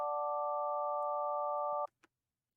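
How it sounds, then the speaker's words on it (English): A synthesizer playing a steady stacked sine-wave tone, a pure sustained hum that holds evenly for almost two seconds, then cuts off abruptly, followed by a couple of faint clicks. "We don't want it all to be sine waves"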